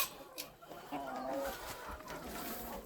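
Hens cluck softly in a busy farmyard, with short murmured calls scattered over a steady background bustle.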